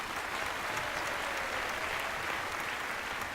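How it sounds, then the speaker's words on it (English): A studio audience aboard the cruise ship M/S Ecstasy applauds Patrick Puffer onstage during the 2004 Larry Garlutzo Show, a steady, dense wash of clapping that holds evenly throughout without a break. "how about a big round of applause for Patrick Puffer?"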